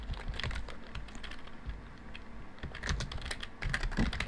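Steady, close typing on a computer keyboard, a quick uneven patter of key clicks that runs throughout with no talk.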